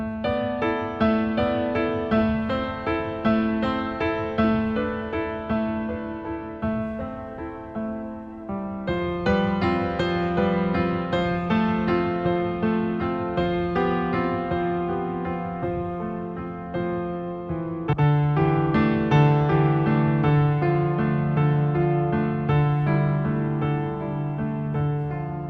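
Piano playing broken symmetrical triad inversions in one hand position, steady arpeggiated patterns ringing with sustain, shifting to new chord shapes twice, with a stronger lower register in the final section.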